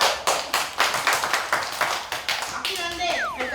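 A group of children in a classroom claps in a quick, steady rhythm of repeated bursts, then the clapping loosens as excited voices rise near the end.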